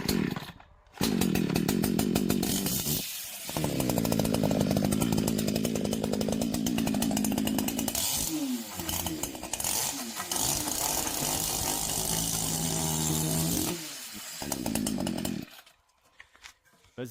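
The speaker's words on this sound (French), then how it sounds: "tu ne sais pas démarrer la tronçonneuse" A chainsaw engine sputters, then roars to life and runs loudly for a long stretch, revving up and down before cutting off near the end.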